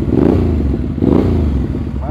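Hyosung GT250 V-twin motorcycle fitted with a racing exhaust, its engine rumbling with a deep throbby pulse and rising in two close revs, loud and near.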